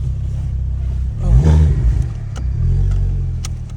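A modified Ford car with bucket seats pulls off on a test drive, its engine rumbling close and loud and rising in a brief rev before settling into a steady drone, with no talk.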